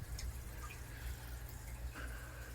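Tap water pours steadily from a hose into a fish tank during a water change, a soft, constant trickle and splash with faint dripping, heard alone without talk.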